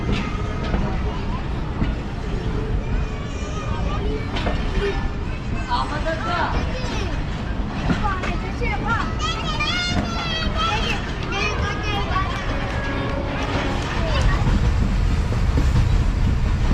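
The Jaffar Express rumbles and clatters as it pulls out of Jakwa junction, heard from inside with steady rolling noise and squeals, while passengers chatter nearby and the rumble grows louder toward the end.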